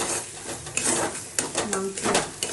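Prawn bharta stirred in a pan, a spoon scraping and clinking against the metal in uneven strokes over a soft sizzle, close and moderately loud.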